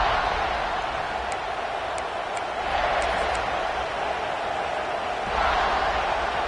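Steady roar of a stadium crowd in a college football video game with Ole Miss playing, broad and continuous with two swells of louder cheering, a few faint ticks on top, and no speech over it.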